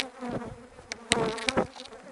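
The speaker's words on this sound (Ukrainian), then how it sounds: "Ну, бджоли вентилірують, тобто жарко." Honey bees fan at a hot hive entrance, a continuous close buzzing drone with a few sharper passes of individual bees flying by.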